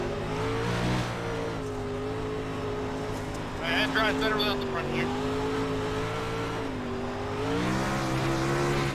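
A NASCAR stock car engine in the iRacing sim on a red clay track, revving loud and continuous with rising and falling pitch sweeps as the throttle is stomped, while a voice talks over it.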